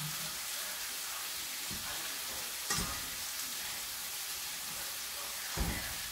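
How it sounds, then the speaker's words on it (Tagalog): A pot bubbles and hisses steadily, a broad continuous sizzle with a few soft knocks or clinks now and then. "kumukulo na siya"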